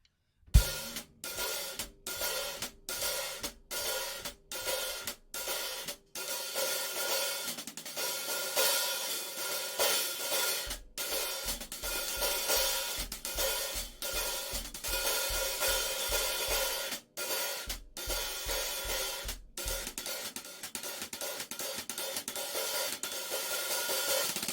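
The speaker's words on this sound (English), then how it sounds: "So it's open, closed, crescendo, open, closed, crescendo." A drummer plays a hi-hat time pattern of open, closed, then a crescendo into beats one and three, with the cycle repeating steadily. The hits are crisp and bright, with sizzling open washes, played alone without talk.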